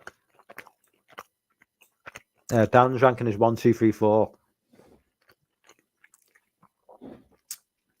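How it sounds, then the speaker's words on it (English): Pizza being chewed close to a microphone gives faint, scattered wet clicks and soft crunches, broken by a short stretch of someone talking. "Munching pizza again, so apologies."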